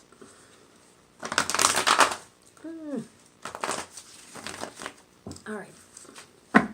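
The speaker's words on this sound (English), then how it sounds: "Let's do one more shuffle." Tarot cards are shuffled in bursts of riffling and flapping, close and fairly loud, with a brief spoken word and a few other voice sounds between the shuffles.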